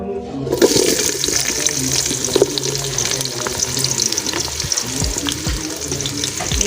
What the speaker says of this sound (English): you add in your onions and let them cook until they turn goldish brown